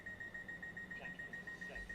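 A train cab in Train Sim World 6 on the East Coastway line gives off a rapid, evenly spaced electronic beep that repeats steadily throughout over a low background hum.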